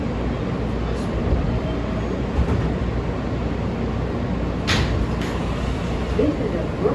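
Riding a Brooklyn-bound J subway train in New York: a steady, loud interior rumble and rattle of the car runs throughout, with voices mixed in and occasional metallic squeaks.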